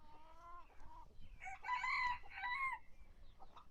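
Several chickens in a coop cluck close by in the morning, breaking into louder, drawn-out crowing calls midway before settling back to scattered clucks.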